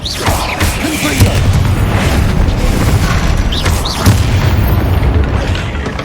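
A Confringo spell explosion in the Hogwarts Legacy video game: a loud, dense, continuous rumbling boom with repeated crackling bursts across the whole stretch.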